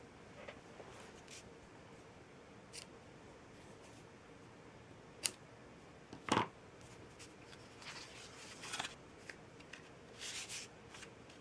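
Scissors trim paper for a simple handmade Thanksgiving card, with a few short, close snips and soft paper rustles against a quiet room.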